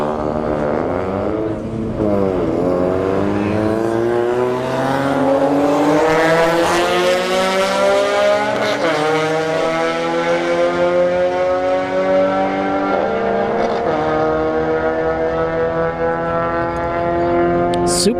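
A Toyota Supra drag car launches down the strip against a Nissan Sentra at a street-heat test and tune session at Bradenton Motorsports Park, engines revving hard through rising gear pulls, loud and continuous for the whole run.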